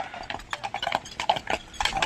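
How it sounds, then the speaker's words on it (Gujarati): Horses clip-clop along a tourist path below a castle in Bavaria, Germany. The hooves ring out as a string of fairly close, uneven strikes over faint background voices. "ખાતા પીતા ઘરના ઘોડાઓ"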